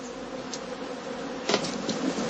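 Honeybees buzz around heather skeps in an autumn heathland apiary, a close steady hum with a brief louder rustle partway through and no talking.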